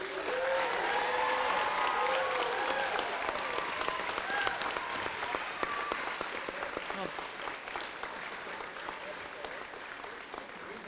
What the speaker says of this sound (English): We welcome your applause for the class of 2023.